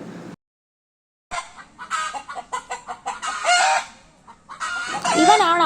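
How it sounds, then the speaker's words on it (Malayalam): Chickens at a backyard laying spot, a rooster among hens, cluck in quick, loud bursts close by, with a louder crowing-like call rising at the end. "ചാവൽ കയറി നിന്നിട്ട് ശബ്ദം ഉണ്ടാക്കുമ്പോഴാണ് നമ്മൾ വന്ന് നോക്കുന്നത്."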